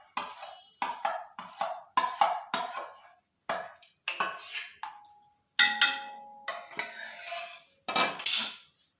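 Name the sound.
stirring condensed milk into semiya payasam in a pot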